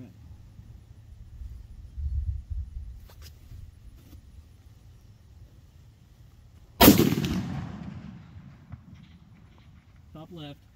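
A single loud, sharp crack from a 300 PRC rifle fired at a target about 1286 yards away, followed by a long rolling echo that fades over several seconds against an otherwise quiet outdoor background.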